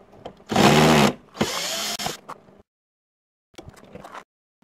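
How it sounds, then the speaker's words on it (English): A handheld electric screwdriver fitted with a Torx bit backs screws out of an RV door handle, giving two loud whirring bursts close to the mic, then a pause and a fainter short run. "So I got my Torx bit on my screwdriver. We're just going to remove four of these."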